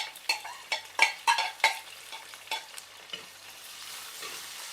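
Ginger, garlic, shallots and onion fry in a pan for a Kerala fish curry, a soft sizzle broken by a quick run of clattering stirs that later thin out to a steady hiss.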